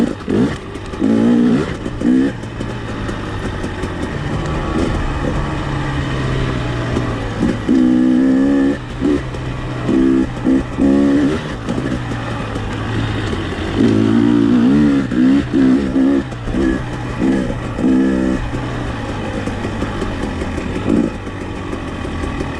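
A 2021 KTM 300XC two-stroke dirt bike climbing through rocky mountain terrain, engine revving up and down in loud, uneven bursts as the throttle works over obstacles, close to the rider with no talk.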